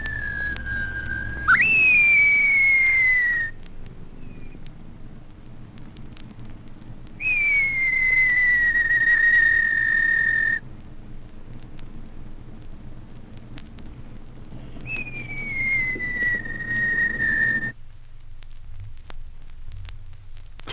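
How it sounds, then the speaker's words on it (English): Young rheas crying, taken from an animal sounds vinyl record: three drawn-out, thin whistling calls, each a couple of seconds long, separated by pauses over a faint hiss. "Young rheas follow their father and cry."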